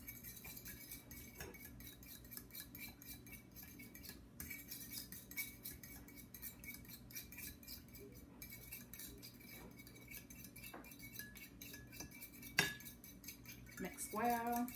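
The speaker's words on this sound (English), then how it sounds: "now we're going to mix this together" Milk and egg batter being mixed in a bowl, with a utensil clinking and scraping against the bowl in a quiet, irregular rhythm; faint, close, with a few sharper knocks near the end and no talking.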